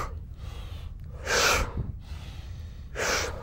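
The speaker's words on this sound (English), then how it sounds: "then you inhale like this" Deep breaths during a breathing exercise: two strong, close airy inhalations, each about half a second long and about one and a half seconds apart, over a low background hum.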